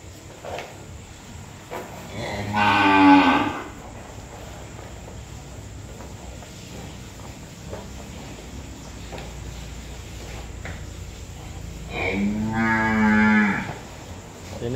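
Cattle on a farm in Châu Thành district, An Giang province, Vietnam, give two long, loud moos, one early and one near the end, with quiet barn ambience and faint insects between them.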